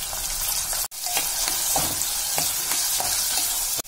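Chopped onion, ginger, curry leaves and green chillies frying in a pan for upma, a loud close sizzle with repeated scrapes and clicks of a spoon stirring.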